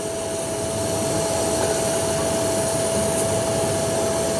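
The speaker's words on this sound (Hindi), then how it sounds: "इसलिए इसे तसल्ली के साथ वेल्ड कर लें" Pipe being welded with a torch while a 12V AC compressor is replaced: a loud, steady roaring hiss with a constant whine runs unbroken throughout, with no talking.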